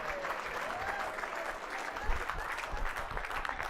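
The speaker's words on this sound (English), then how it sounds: "Big round of applause." An audience claps in dense, sustained applause at a sport gala dinner, a full crowd sound lasting the whole moment.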